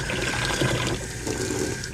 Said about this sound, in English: tap going hot, it'll get the bottom of the bucket nice and warm.